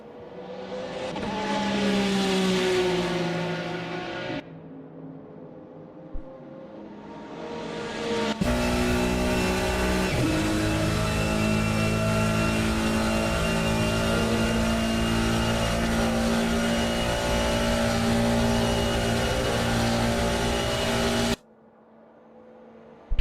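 Porsche and Ferrari GT3 race cars at Spa-Francorchamps, loud engine roar rising and falling through gear changes, then a sustained high-revving drone as the cars race close by, cutting off abruptly near the end.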